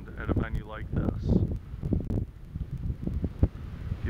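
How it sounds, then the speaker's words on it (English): Gusty wind buffeting the microphone in low rumbling bursts at a lakeside wedding venue in Vermilion, Ohio, on Lake Erie, with a person talking over it outdoors. "there is always some wind at a venue like this"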